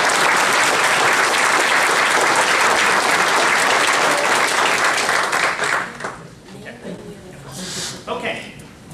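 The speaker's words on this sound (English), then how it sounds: "you deserve a huge round of applause" Loud audience applause at a Craven County political convention, dense clapping from a large crowd that carries strongly for several seconds, then thins and fades into scattered claps and room noise.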